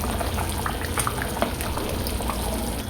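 Bombay chutney bubbles at a steady boil in a pot on the stove, a dense wet burble of popping bubbles heard close up with no talking.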